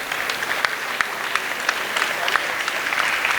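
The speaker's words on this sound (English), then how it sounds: "A big round of applause gatherings." Steady audience applause at the AYUSH Habba 2026 gathering, dense clapping from a sizeable crowd held at an even level for the whole stretch, with a few sharper individual claps standing out.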